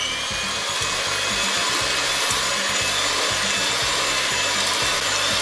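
Electric mixer running at low speed while kneading homemade boilie dough, a steady, close grinding rumble with a continuous rubbing texture and no speech.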